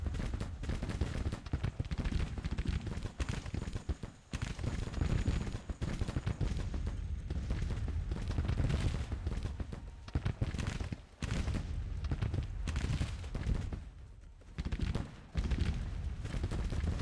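Artillery fire and massed gunfire in an American Civil War strategy game, dense and continuous booms and crackling volleys with no break, loud and layered over the whole stretch.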